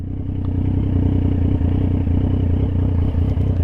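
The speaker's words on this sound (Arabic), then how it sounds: "دابا حيت متقل خصني نرد البال مع التحت ديال الموتور." A loaded motorcycle rides a rural countryside road, its engine a steady low drone with rattling clatter throughout, close and continuous.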